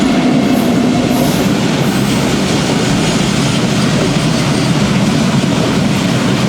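A train rumbles loudly past close by at a railway crossing in Andhra Pradesh, a dense steady clatter of wheels on rails that holds for the whole stretch, with no voices.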